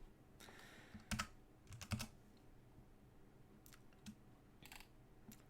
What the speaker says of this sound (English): I'm going to type in, I'm moving ugcs.net.